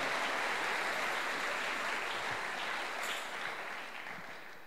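A church congregation applauds to acclaim the Lord, steady dense clapping filling the room and slowly fading toward the end, with no talking over it.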